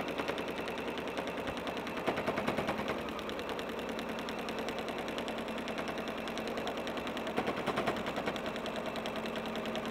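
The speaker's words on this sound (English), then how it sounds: "we're going to sew along the bottom" A sewing machine fitted with a walking foot stitches a half-inch seam across the bottom of a striped bag, running in a fast, steady mechanical chatter close by with a brief heavier burst near the start.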